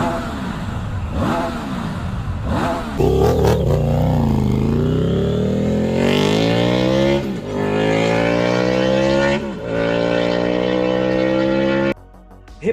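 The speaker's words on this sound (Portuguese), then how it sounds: "Mas provavelmente já ouviu falar dos novos motores 3 cilindros chamados de T-Plane da Tiger 900." A Triumph Tiger 900 motorcycle with a T-Plane three-cylinder engine runs loud and close, revving up and down through several rising and falling sweeps before cutting off near the end.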